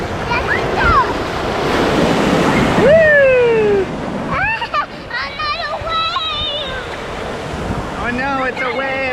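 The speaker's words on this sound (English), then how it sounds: "Here comes the waves." Ocean surf breaking on the Galveston shore on a windy day, a loud rushing roar with heavy wind noise, while people shout, whoop and talk excitedly over it.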